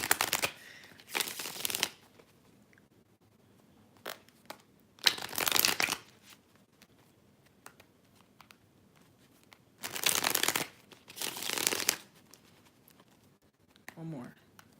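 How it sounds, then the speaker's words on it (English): Tarot cards being shuffled in several brisk riffling bursts, close by, separated by short pauses with quiet background. "Shuffling the cards."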